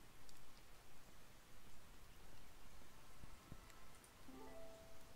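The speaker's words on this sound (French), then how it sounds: "C'est la pluie encore." Steady rain hiss in the video game XING: The Land Beyond, a soft, even wash of falling drops with faint pattering and a brief tonal chime near the end, no voices.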